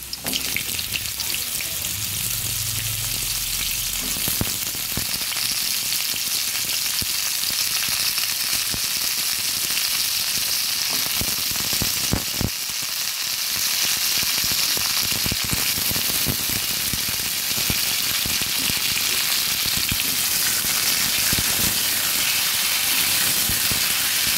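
Drumstick pieces and pumpkin frying in a pan, a loud, continuous hissing sizzle that holds steady and close throughout, with a few faint clinks.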